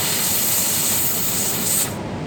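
A steam cleaner sprays steam onto a rug in a loud, continuous hiss held steady up close, dropping off sharply near the end when the spray stops.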